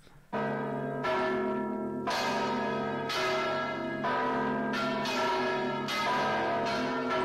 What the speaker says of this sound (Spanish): ese señor debe, debe tocar la campana